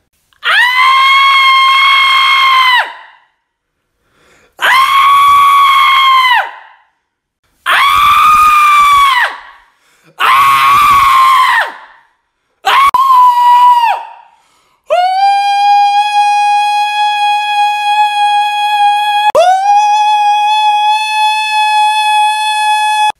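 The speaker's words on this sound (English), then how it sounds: "I'm gonna scream as loud as I can and try to break this glass." A person screams loudly in five sustained high-pitched bursts with pauses between, then holds one long piercing scream.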